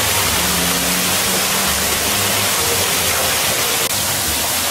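A rainforest waterfall roars in a dense, steady wash of broadband noise, loud and unbroken throughout with no voices.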